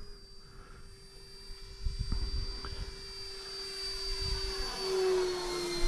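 A Viper Jet 70mm RC electric ducted-fan jet plane flies overhead, its steady high whine and sustained tonal hum rising and fading as it passes, with brief gusty rumbles and no talking.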